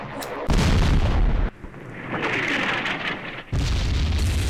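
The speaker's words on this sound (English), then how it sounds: "Now that was a direct hit on our men, and I mean direct." Artillery shells scoring a direct hit in a war video game set during a 1968 Israeli raid into Jordan: heavy, loud booming blasts that roar for about a second, a rumbling lull, then another thunderous burst.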